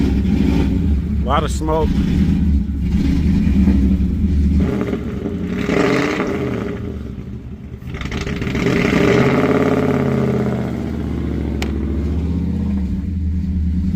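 A turbocharged Lexus LS400 engine idles and revs in a rough, rumbling stream that swells and dips across the clip, close by, while people talk over it.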